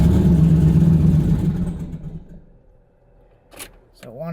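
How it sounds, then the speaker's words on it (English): A truck engine running E85 fuel with a Holley Terminator X system cranks and roars loudly at first, then fades away before a short sharp clatter near the end. "So I'm gonna turn the key on and I'm gonna try to start it now."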